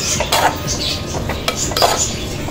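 A spoon stirring egg masala in a metal pan, with several scraping clinks and knocks against the pan over a low background hiss, close and fairly loud.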